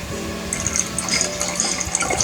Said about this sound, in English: Just pour a little bit of fog juice like that,